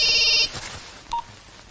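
A telephone rings in a Telugu action film scene: a loud electronic ringing burst that cuts off after a moment, leaving quieter room tone with a brief tonal blip.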